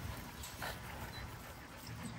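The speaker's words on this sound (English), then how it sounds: "Check these puppies out, man." Puppies at a kennel whimper and whine faintly amid rustling and shuffling, a soft continuous murmur of small yelps that stays low in a noisy close-up setting.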